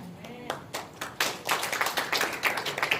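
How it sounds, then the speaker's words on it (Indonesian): Clapping in a Sunday church service rises after a few early taps into a quick, sharp run of claps from a congregation, close and moderately loud, ending in an uneven spatter. "Tepuk tangan nggak apa-apa"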